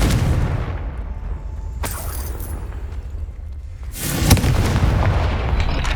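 A Confringo spell blast in the Hogwarts Legacy video game: a sudden booming burst near the start and a second loud, sharp explosion around two-thirds through, each trailing into a rumbling crackle over a low steady game ambience.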